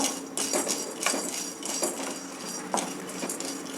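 Fried gram is being roasted in a pan, heard as a quick series of close metallic scrapes and clinks as a spoon stirs it, with a constant gritty rustle and no talking.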